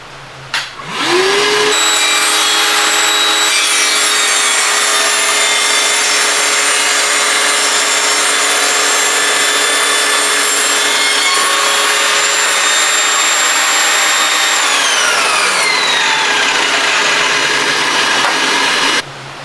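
Budget table saw spins up and cuts a 45-degree bevel through 18mm plywood with a dust extractor running, a loud steady whine with rising and falling motor pitch, then winding down.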